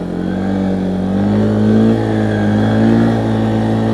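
A 2015 Arctic Cat 500 EFI 4x4 ATV in low range holds a loud, steady engine drone close by, its pitch gradually climbing and sliding as the throttle opens and the machine accelerates, with no talking.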